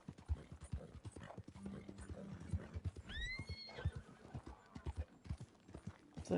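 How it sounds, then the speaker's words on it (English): A horse gallops in Red Dead Redemption II with rapid, uneven hoofbeats, fairly quiet, and a whinnying neigh rises partway through before the hooves carry on. "It's like, go faster, horsey."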